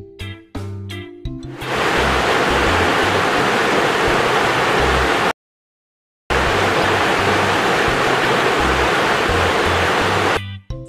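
A waterfall roars as a loud, steady, broadband rush that drops out briefly in the middle and then resumes.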